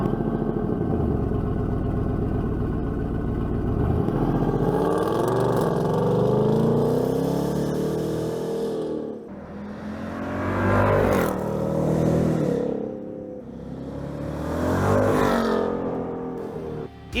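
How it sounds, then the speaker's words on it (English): A 2024 Ford Mustang GT with an Accelatec H-pipe resonator delete and factory mufflers drives past with a loud, close engine drone that swells and eases through repeated rev changes, with no talking. "the H-pipe resonator delete from Accelatec gave our Mustang a lot more volume"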